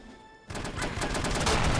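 Submachine gun fire from the video game No One Lives Forever: a dense, loud burst of rapid shots starting abruptly after a brief quiet moment and continuing steadily to the end.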